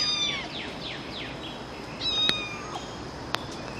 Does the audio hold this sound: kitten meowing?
yes